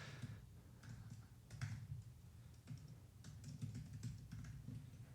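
Quiet keyboard typing on a computer, soft irregular key clicks in short bursts over a low background hum.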